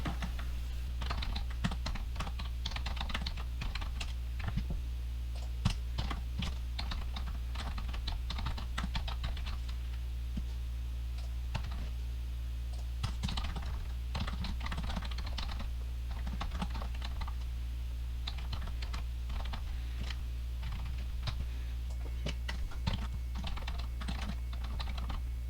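Comments are typed into Java code on a computer keyboard in a steady, close, irregular patter of keystrokes that lasts throughout, over a low constant hum.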